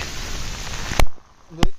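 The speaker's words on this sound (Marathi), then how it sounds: "खूप जोराचा पाऊस चाललाय" Heavy monsoon rain pours at Kumbhe waterfall in Tamhini Ghat. A dense, close hiss fills the first second, then cuts off, followed by two sharp knocks.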